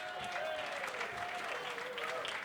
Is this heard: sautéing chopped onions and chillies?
no